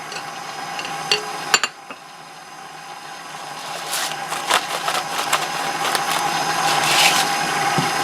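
An electric mixer runs steadily in a bowl as egg, flour and butter are beaten into bread roll dough, with a continuous whirring hum broken by occasional sharp knocks and clatters nearby.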